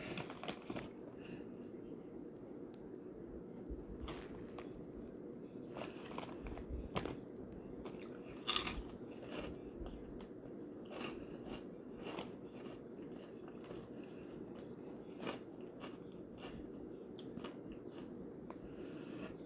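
Crunchy cheese-flavoured Japanese puffed corn snack from Daiso being bitten and chewed close up, faint crunches and soft mastication over a steady background hiss, with no talk.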